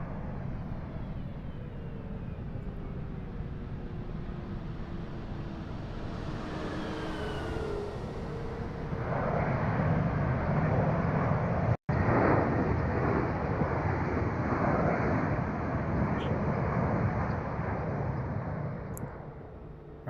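An easyJet A320 airliner touches down in a flight simulator, steady broadband engine and rumbling roll noise swelling louder midway and holding through rollout, with no talking.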